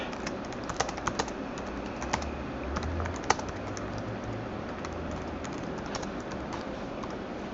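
Text is typed on a computer keyboard with a steady run of light, close key clicks, occasionally louder taps, and no talking.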